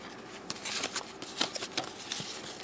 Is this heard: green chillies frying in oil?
no